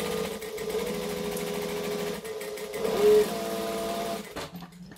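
Close, steady whirring of a sewing machine stitching fabric for a garment, its needle rattling continuously, with a brief pitch rise near the end before the motor stops.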